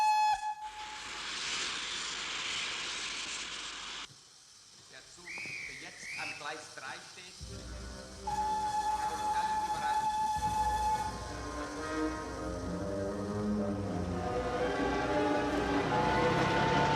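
Movie scene of a train about to pull out of a station, with a steady rumbling hiss and a long whistle tone, then rising mechanical clatter and a swelling musical soundtrack; muffled voices come through briefly mid-scene.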